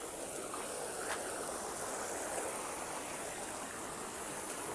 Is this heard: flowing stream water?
yes